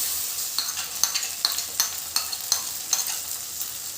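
A pan sizzles steadily as mustard and green chili paste is stirred into frying onions, with a rhythmic scrape of the spoon against the pan roughly every half second.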